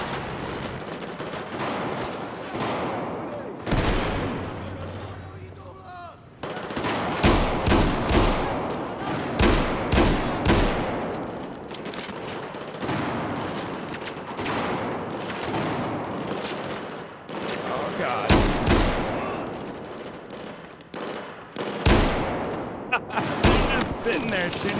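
Battlefield 4 campaign gunfire: repeated sharp bursts of rifle and machine-gun shots in irregular volleys across the whole stretch, loud and close, with voices talking between and under the shooting.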